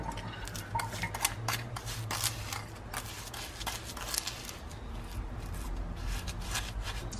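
Sugar lip scrub stirred in a small bowl, a continuous gritty scraping and clicking of a utensil against the sides with quick rhythmic strokes, close and alone without speech.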